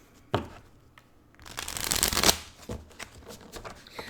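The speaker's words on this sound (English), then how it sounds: "let me just move my cards." Tarot cards from a Light Seers deck are moved and shuffled on a table, with a soft tap, then a riffling burst lasting about a second, and a few lighter card slaps close by.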